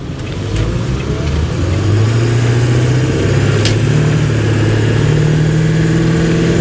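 A 2000 Ford F250 pickup truck pulls away from a standstill, its engine note climbing steadily and loudly through the gears with a close, rising drone and no talking.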